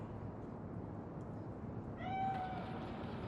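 A cat gives a single short meow in Cyberpunk 2077, faint and somewhat distant over a steady low ambient hum, near the end of the clip, with no one talking.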